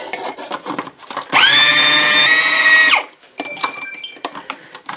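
A food processor whirs loudly for about a second and a half while blending strawberries and bananas into sorbet, with softer handling clatter and knocks before and after the run.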